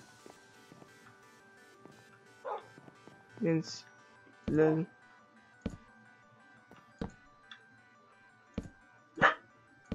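A dog in Minecraft gives several short barks spaced across the scene, clear and close, among sharp clicks and someone talking.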